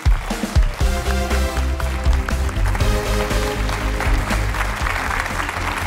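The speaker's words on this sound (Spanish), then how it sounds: "empezamos rápidamente recibiendo con un fuerte aplauso a la primera concursante" A studio audience applauds to welcome the first contestant on a Spanish TV game show, dense clapping under loud, driving theme music with heavy bass beats throughout.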